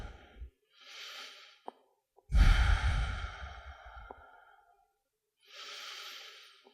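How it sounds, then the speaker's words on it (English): A person resting in yoga child's pose breathes slowly and audibly, with soft drawn-out inhales and one long, deep sighing exhale, separated by quiet pauses; close and calm, with no talking. "Breathing."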